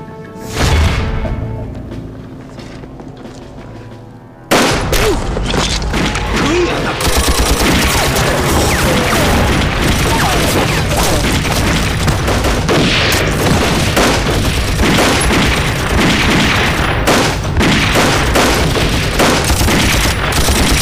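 Sustained gunfire in a Chinese anti-Japanese war drama battle: after a few quieter seconds, loud dense volleys of rifle and machine-gun fire erupt and continue without pause, mixed with booming blasts and thuds.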